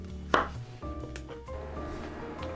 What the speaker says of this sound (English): With our button mushrooms, we're gonna cut them basically into thirds.